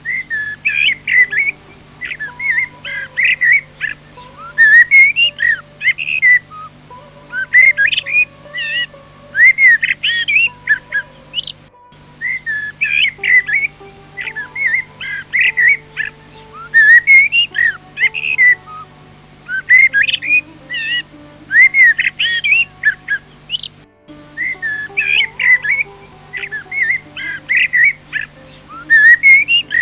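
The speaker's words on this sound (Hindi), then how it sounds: "अभी राज्य की सर्वोत्तम बुलबुल अपना गाना आरंभ करेगी।" A bulbul sings a bright, whistled song of repeated warbling phrases, loud and close, cycling steadily over a low continuous hum with no talking.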